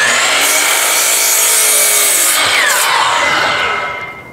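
Saw cutting wood pieces for closet French doors, a loud, steady cutting noise that runs unbroken for about four seconds before tapering off at the end, with no talking.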